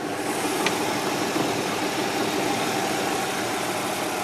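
A 2002 Hyundai Santa Fe LX with its 2.7-liter V6 and four-speed automatic idles smoothly under the hood, a steady, even hum with no revving and no voices.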